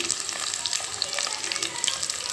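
Spices splutter in hot oil for a chicken gravy, giving a dense crackling sizzle with quick popping bursts, close and even throughout, no voices.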